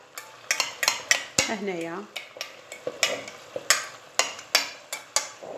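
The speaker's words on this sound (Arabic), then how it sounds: "دونك نحط البصل يتقلى" Onion frying in a pan for pasta with merguez, stirred with a utensil in rapid, rhythmic scrapes and clinks over a soft sizzle, close up, with one short spoken word.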